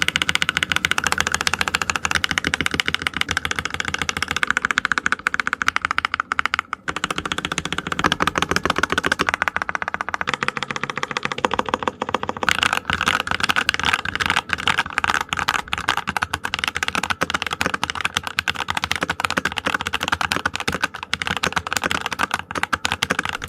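Rapid typing on a Redragon K617 Fizz compact mechanical keyboard modded with Graywood V3 switches and PBT keycaps, a close, continuous stream of crisp clacky keystrokes running for over twenty seconds with no talking.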